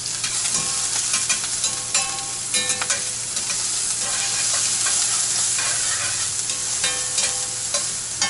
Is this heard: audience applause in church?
no